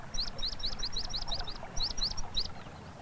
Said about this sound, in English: out on the meadow here, there are red-winged blackbirds and swamp sparrows all singing